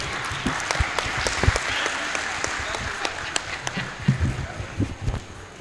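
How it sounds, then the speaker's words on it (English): Applause at an oath-taking and induction ceremony, scattered and moderately loud, with sharp individual claps over a steady crowd of clapping for several seconds. "I think you need to clap for me too."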